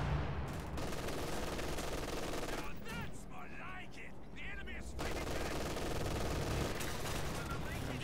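A pintle-mounted MG42 machine gun on a Panzer IV in a video game rattles in long, loud bursts, with a brief pause in the middle before the sustained firing resumes.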